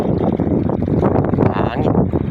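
Loud, buffeting wind rumbles against the microphone outdoors on a fishing trip, a close, steady roar with gusty swells throughout.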